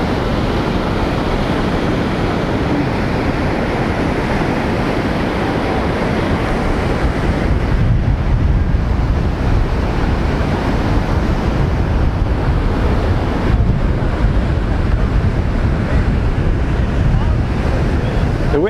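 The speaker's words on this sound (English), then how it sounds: "Breakers are pretty rough everywhere here today." Rough surf breaks at Nai Harn Beach in Phuket on a windy day, with a continuous loud roar of crashing waves and wind buffeting the microphone throughout, and no talk.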